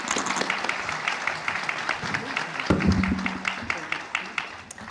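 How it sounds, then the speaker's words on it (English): Applause for panelists at the India AI Impact Summit, a broad wash of clapping from a large audience, fairly faint and steady, with a brief louder swell midway. "Please join me in one more round of applause for our speakers."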